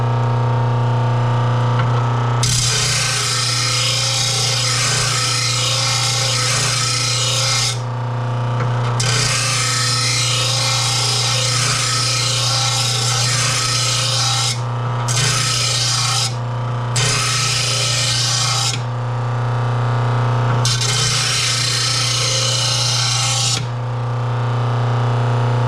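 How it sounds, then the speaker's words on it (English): Push mower blade from a Honda mower ground on a blade sharpener, repeated loud rasping grinding passes of several seconds each with brief gaps over a steady motor hum. "That's why I like this blade sharpener, man."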